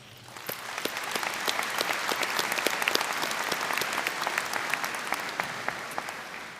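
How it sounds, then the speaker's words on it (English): A large audience at a university spring commencement gives a round of applause: a full, even roar of clapping hands, steady throughout, with sharp individual claps standing out. "Let's give them a round of applause."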